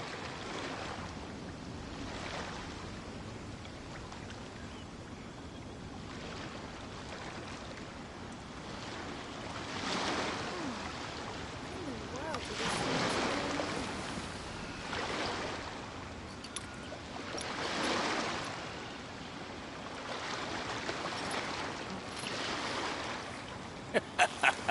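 Ocean waves in Genshin Impact wash in and recede in slow, soft surges every few seconds, with a faint windy hiss underneath and a few small clicks at the very end.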